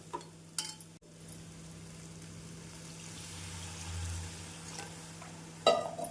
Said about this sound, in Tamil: நான் மசாலாக்களை உருளைக்கிழங்கு தக்காளியுடன் நன்றாக மிக்ஸ் செய்து